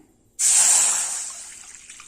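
A cup of water is poured into a kadai on the stove while cooking a meal maker (soya chunk) curry. A sudden, loud, close splashing gush starts abruptly and then tapers off steadily, with no voices.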